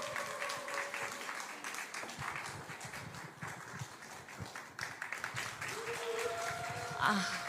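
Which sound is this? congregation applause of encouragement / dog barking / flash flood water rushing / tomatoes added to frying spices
congregation applause of encouragement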